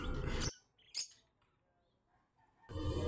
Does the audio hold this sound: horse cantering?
no